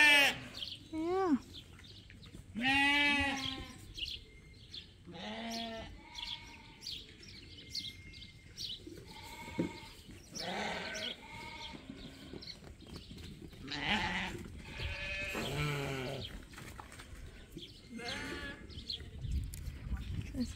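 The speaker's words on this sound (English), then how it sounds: "This is Ernie trying to figure out how to use the crook for catching sheep." Sheep on a farm bleat repeatedly, close and loud, their wavering calls scattered irregularly, while birds chirp in the background and quiet voices murmur now and then.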